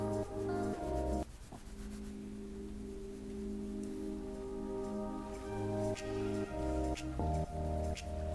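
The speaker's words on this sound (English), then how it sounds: "And I'm gonna blend it out using this contour brush." A contour brush blends makeup across skin, giving a soft, continuous rubbing and brushing texture that runs through most of the stretch over steady tonal background sound.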